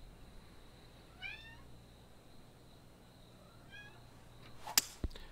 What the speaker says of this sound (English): So I've got a really annoying cat behind me.